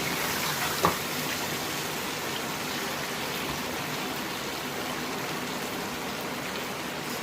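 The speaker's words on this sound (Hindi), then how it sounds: "अब हम इसमें पानी लगाते हैं क्योंकि हमने शोरबा रखना है।" Water pours steadily into an aloo gosht masala to make gravy, a continuous rushing splash with one small knock at the start, even and unbroken to the end.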